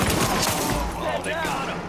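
Dense, rapid gunfire from a firefight in the video game The Division. The shots overlap into a continuous barrage that stays loud for the whole two seconds, with faint voices under the shooting.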